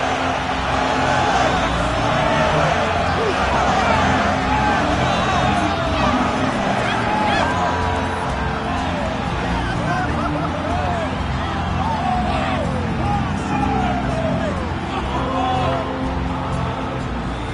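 A capacity arena crowd in a UFC video game roars and cheers continuously at a loud, steady level for the whole stretch, with a commentator's voice over it.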